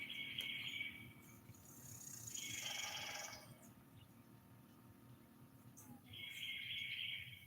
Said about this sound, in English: Did you hear the woodpecker?